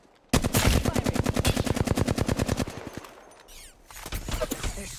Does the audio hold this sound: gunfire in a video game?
yes